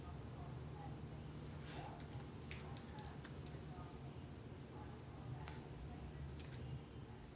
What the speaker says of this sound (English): The faint keyboard taps that close the recording